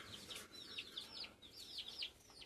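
Free-roaming farm hens and chicks cluck in repeated short bursts, fairly close and steady, over a faint outdoor background.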